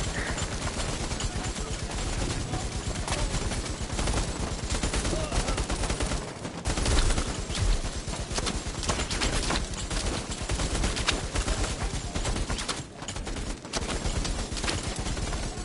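Dense, continuous gunfire from the player's weapon in a VR military shooter game, rapid bursts running nearly nonstop at steady close-range loudness for the whole stretch, with brief dips around the middle and end.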